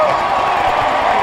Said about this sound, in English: Crowd giving a thunderous ovation to Smith-Pelly.